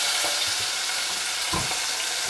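Mixed vegetables frying in a pan with lightly browned cardamoms, a steady close hiss and sizzle over the whole stretch, with a brief stirring clatter near the middle and no talking.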